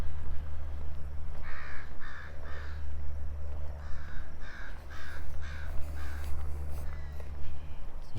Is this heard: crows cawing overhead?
yes